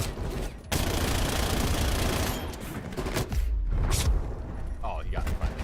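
Gunfire rattles in the video game Call of Duty Vanguard, dense sustained bursts and booms with brief gaps, loud and close, with a player talking over the shooting.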